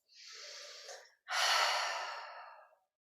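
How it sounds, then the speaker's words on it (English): Deep breathing in a yoga class: a long, airy inhale through the nose, a short pause, then a louder, sustained exhale, close and clear with no talking. "Take a few breaths."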